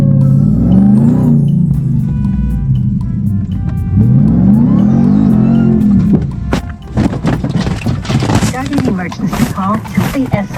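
A pickup truck revs hard during a desert stunt, its engine rising and falling, before a burst of crashing impacts and rattles; voices are mixed in throughout.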